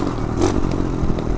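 A mini motorcycle rides across a bridge in New York, a loud rough engine drone close by with clattering and scraping rattles, no talk.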